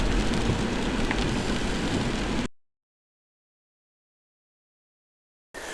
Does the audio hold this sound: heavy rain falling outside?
yes